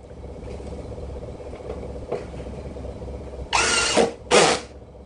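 Ronix 8905K 20-volt cordless hammer drill spinning at its second speed setting, two short loud bursts of whirring motor close by, separated by a brief pause, after a stretch of low background noise.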